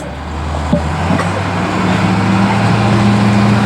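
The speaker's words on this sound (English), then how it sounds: "You have a car on this side" A car goes past the Ride the Ducks amphibious vehicle on a Seattle road, a steady rumbling engine and road noise that swells slightly as it passes, loud and close, with no talking.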